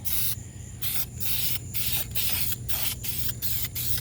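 Car wheel barrels on a 2004 Saturn VUE being spray painted, giving repeated close hissing bursts of the spray gun, about eight short blasts separated by brief pauses over a low background hum.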